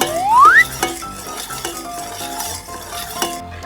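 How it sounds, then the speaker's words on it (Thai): Spoon stirring agar powder into an Ovaltine Smart drink, with clinks and scrapes against the container repeating steadily at close range and no talking. "ลังจากนั้นเฮาก็นำผงวุ่นมาเทลงในโอวันตินสมาร์ทแล้วคนให้เข้ากัน"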